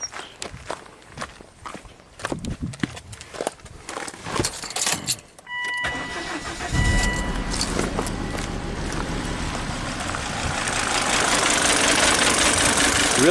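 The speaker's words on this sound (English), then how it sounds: "Let's just start it up and see if there's a spark." Footsteps and key jangles come first, then a Volvo with a faulty ignition coil cranks and fires, settling into a rough, uneven idle that grows louder and close by.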